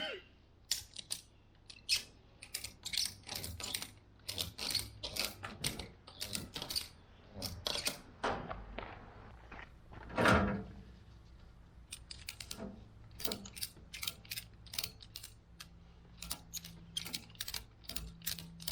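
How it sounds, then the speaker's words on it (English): Ratchet straps are cranked tight to secure a scooter onto a trailer, giving rapid series of sharp mechanical clicks in bursts, close and fairly loud, with short pauses between runs. "Now that those are in place, we can tighten up the ratchet straps."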